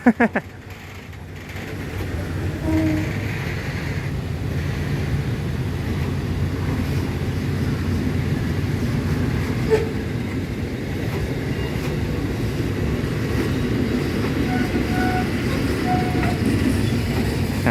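Suburban Thai train rumbling slowly on rails as it is hauled into the yard at Thonburi station, a steady low continuous rolling drone close by with faint clicks and squeals throughout.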